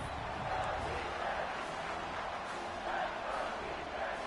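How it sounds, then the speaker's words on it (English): Stadium crowd at a college football game, Oregon against TCU, roaring steadily as the defense holds in the red zone; a dense, continuous wash of cheering with swelling surges, fairly distant and even throughout. "the crowd coming to life here, trying to help this defense down in the red zone"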